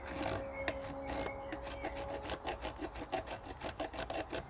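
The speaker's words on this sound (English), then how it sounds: "the reason why it's chipping into small bits is basically because of the fact that this is very dry" A draw knife shaves very dry wood into small chips, giving a steady rasping, scraping drag with repeated rhythmic strokes toward the end, fairly close and with no talk.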